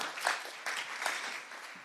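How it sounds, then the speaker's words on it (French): An audience at a conference round table breaks into sustained applause for a panel speaker's introduction, a dense wash of clapping filling the room throughout. "Merci de l'applaudir"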